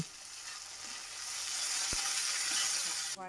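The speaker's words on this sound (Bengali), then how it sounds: "পেঁয়াজ আর রসুন ভালো করে ভাজা হয়ে গেলে আদা পেস্টটা অ্যাড করে এবার ভালো করে আরেকবার নেড়েচেড়ে নিন" Onion, garlic and ginger paste fry in hot oil for a Bengali mustard hilsa dish, giving a steady close sizzle with one sharp stirring knock partway through.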